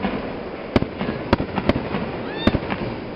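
Fireworks at a July Fourth-season display in Tri-City, Kentucky: four or five sharp explosions crack at irregular intervals over a steady crowd-and-crackle background, with a faint whistling rise, fairly distant.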